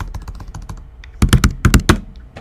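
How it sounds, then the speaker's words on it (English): Keystrokes on a computer keyboard, quick close clicks scattered at first, then a louder burst of hard taps in the second half, with no talking. "And now let me type Scala"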